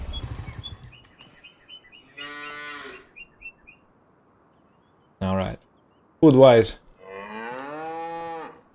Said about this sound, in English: Oh, look at tired cows.